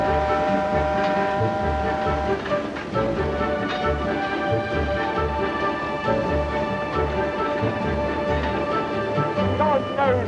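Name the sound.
steam locomotive whistle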